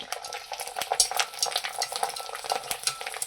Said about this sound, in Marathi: मी तुम्हाला आता तळून दाखवते. हे बघा, तेल चांगलं गरम असलं ना की मस्त असं